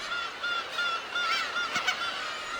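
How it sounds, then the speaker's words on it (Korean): Black-tailed gulls calling in an island breeding colony, a close chorus of nasal, mewing cries overlapping in a continuous stream, with a brief louder squawk near the end. "섬은 괭이 갈매기들의 차지가 됐습니다"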